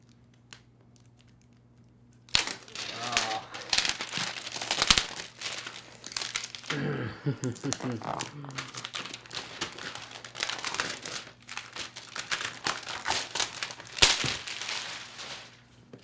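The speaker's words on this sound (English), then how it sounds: "I gotta find the proper place to start my cut just to get this plastic off" Plastic wrap being cut and peeled off a Red V-Raptor camera box, a steady run of close, loud crinkling and crackling with sharp snips and rustles that keeps going for over ten seconds, no voices.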